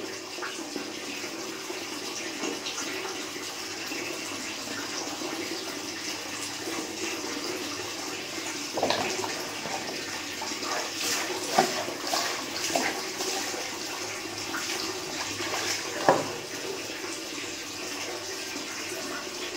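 Water scooped and poured over the body while bathing in a home bathroom, a steady running splash with occasional louder pours and sloshes near the listener, no voices.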